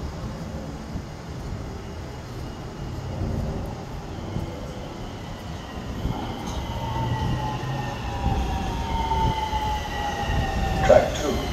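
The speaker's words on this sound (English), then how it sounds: "There's the rail, it's coming." A Honolulu Skyline light rail train in Hawaii rumbles past at a moderate distance, its steady roar joined by rising, drawn-out metallic squealing tones from the wheels.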